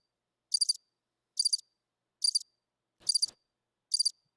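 A cricket chirps as an inserted sound effect, five evenly spaced short trills, each a bright buzzing pulse against total silence.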